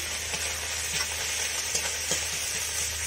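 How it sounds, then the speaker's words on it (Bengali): Onions frying in a pan after ginger, a steady, even hiss of oil with faint clinks of stirring, close and unbroken, with no one speaking. "এখন আমি পেঁয়াজ দিয়ে দিচ্ছি।"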